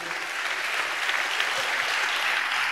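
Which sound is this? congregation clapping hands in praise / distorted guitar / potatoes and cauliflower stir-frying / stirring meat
congregation clapping hands in praise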